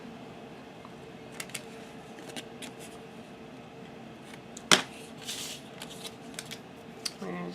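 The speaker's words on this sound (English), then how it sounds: "I'm going to take my scissors and taper the edge of my flap" Scissors cut and taper the edge of a fabric flap for a fabric album, giving a few faint, scattered snips and one sharp, crisp cut, quiet and close with no talking over them.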